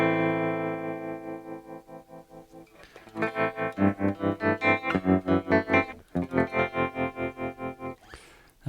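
An electric guitar plays through a Flick tremolo pedal, a sustained chord pulsing in a steady rhythmic throb whose rate and depth shift partway through, loud and close with no talking.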